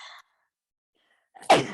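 A single sharp human sneeze bursts out at the end after a short silence, close and loud, following a brief moment of speech at the start.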